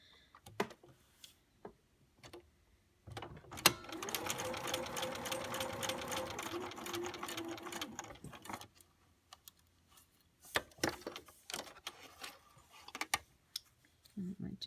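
A sewing machine runs through fabric pieces for a Moravian star in one continuous rapid stitching run of about five seconds, close and steady, framed by quiet clicks, taps and fabric handling before and after.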